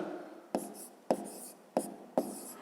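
Four sharp strokes of a pen on paper mark someone writing out an answer to a fifth-grade math problem, each stroke a quick scratch followed by a softer trailing rub, close and alone.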